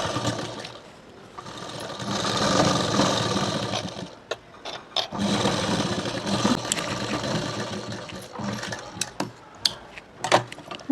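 A sewing machine stitches a kids' blouse in two long runs of rapid, close whirring with a pause between, then short bursts and clicks as the fabric is adjusted.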